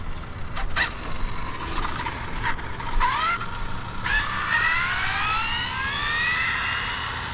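Electric 80 mph R/C truck driving laps, its motor whining up and down in rising pitch sweeps as it accelerates, near then receding, over steady outdoor background noise.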